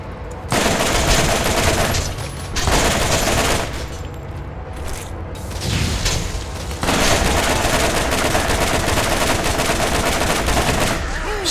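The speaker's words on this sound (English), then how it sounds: "This is a machine gun test" Machine gun fire in Borderlands: long, loud, sustained bursts of rapid automatic shots, broken by a few short pauses and then resuming steadily.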